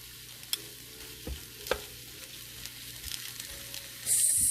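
Pork chops with gravy and mushrooms cooking in a big frying pan, a soft continuous sizzle broken by a few sharp clicks and scrapes, then a louder hiss swelling at the end.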